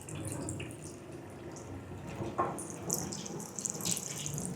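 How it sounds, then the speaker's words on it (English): Water runs from a kitchen tap as a bowl is rinsed out while birria consommé is being prepared, a quiet, steady splashing stream with a few brighter splashes. "let me rinse my bowl out here"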